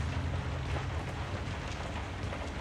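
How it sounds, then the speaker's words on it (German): Rain pours outside at night in the horror video game Outlast, a steady, dense, loud hiss with a low rumbling undertone and no pauses. "Oh, wie schön draußen regnet es."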